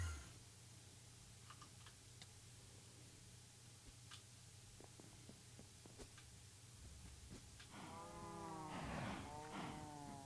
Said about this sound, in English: Your cows are getting killed.